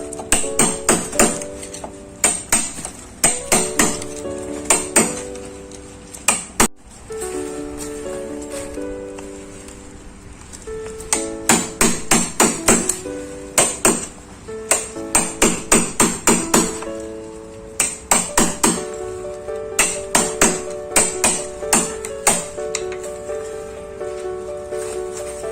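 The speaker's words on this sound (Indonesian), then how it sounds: "Kita gunakan pahat." A hammer strikes a chisel to cut a recess about 2 cm deep into a wall for a round wall socket box, producing loud, close bursts of rapid ringing metallic blows separated by short pauses.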